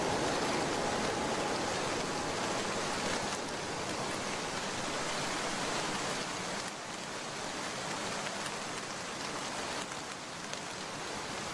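Steady heavy rain pours through a stormy night in a 2D animated folk-tale cartoon, a dense continuous hiss with no break, alone and unvaried.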